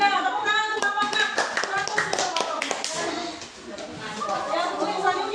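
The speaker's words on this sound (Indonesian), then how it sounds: "Ya, tepuk tangan untuk bapaknya." Group clapping for a man at a gathering, a loud scattered burst of hand claps that thins out, with voices talking underneath.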